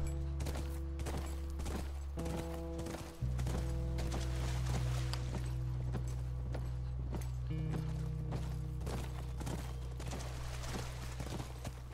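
Horse hooves during riding in the video game The Last of Us, a steady clip-clop of hoofbeats over a low droning game soundscape, fairly quiet and continuous.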